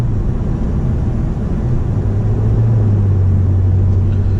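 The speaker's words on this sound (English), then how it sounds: "with just light acceleration," A 2004 BMW E46 330i ZHP inline-six under light acceleration, heard from inside the car as a loud, steady low engine hum and drone that rises slightly in pitch, with no talking.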